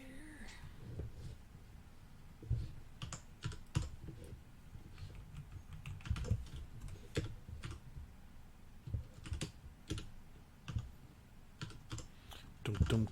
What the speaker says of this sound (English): My keyboard's noisy.